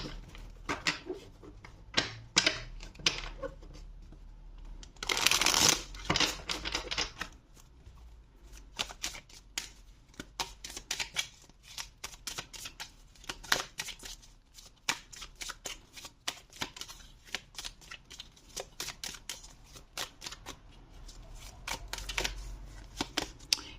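Tarot cards are shuffled by hand in several bursts of rapid riffling and flicking clicks, with one loud, dense riffle partway through, then irregular snaps and taps of cards being handled, close and quiet.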